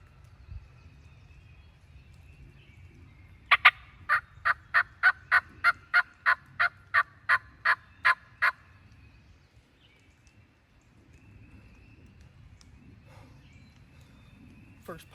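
A wild turkey on rainy Ohio public land gives a clear gobble in the middle, a rapid series of about a dozen sharp pulses over a soft background, with quiet low rumble around it.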